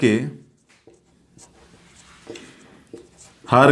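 Chalk or marker scratches in short strokes and taps on a board during a Class 10 maths lesson, faint and close, between a teacher's speech at the start and end.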